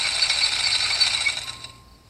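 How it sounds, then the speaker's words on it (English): A sewing machine running at night in a horror film, a quick mechanical rattling and clattering that runs briskly, then fades and stops before the end, with no voices. "using a sewing machine in the middle of the night"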